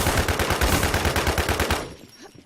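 Rapid automatic gunfire from a shooter video game, a dense loud stream of shots in fast regular rhythm that cuts off abruptly, leaving a quieter tail.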